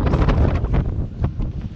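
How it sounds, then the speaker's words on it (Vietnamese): Strong sea wind buffets the microphone on the deck of a luxury yacht out at sea, a loud, steady roar with gusting surges and no speech. "Gió biển mạnh quá các bạn ơi"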